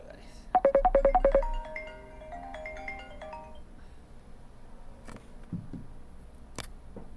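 A mobile phone, used as a camera during a physics lesson, rings with a short burst of rapid repeated electronic tones near the start, then trailing melodic notes. After that come quiet room noise and a few scattered clicks.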